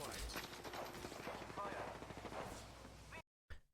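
Rapid gunfire from a 30-30 repeater rifle in the Apex Legends battle royale shooter, a dense stream of loud shots and game effects over most of the stretch, cutting to silence near the end.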